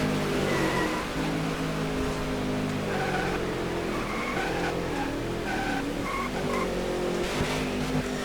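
A NASCAR '15 stock car runs down pit road among other cars, engines droning and shifting pitch, with repeated tire squeals and skids over a dense, steady race-track roar.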